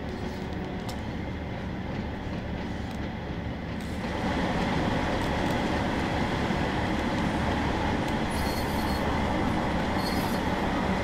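A diesel train in the Train Sim World game on a West Cornwall local line pulls into a station, with steady rumbling wheels and track noise that swell louder partway through and continue without talk.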